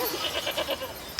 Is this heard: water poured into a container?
no